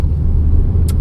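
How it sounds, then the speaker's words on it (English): Russian Gazon truck idling in Moscow morning rush-hour traffic, heard as a steady close engine rumble with a low droning hum and no talk. "this is a Russian truck called the Gazon"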